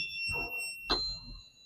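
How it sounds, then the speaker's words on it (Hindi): Fire alarm detection system (FADS) alarm inside a bus sounds as steady high electronic tones, with a sharp burst near the middle and low rumbling noise underneath, moderately loud and close. "ये फायर अलार्म सिस्टम जो बोल रहा है इसके अंदर"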